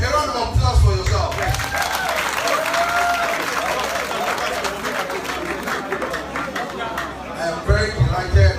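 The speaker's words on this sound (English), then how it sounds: "Please, a round of applause for yourself." Nigerian youth audience applauding loudly at a youth gathering, a dense, sustained clapping with crowd chatter and cheering mixed in, swelling at the start and end.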